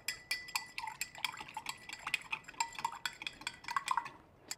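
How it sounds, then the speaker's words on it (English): A spoon stirring amontillado sherry with sugar in a wine glass, quick bright clinks and taps against the glass in an irregular run, close and fairly quiet. "Give it a little stir to dissolve the sugar."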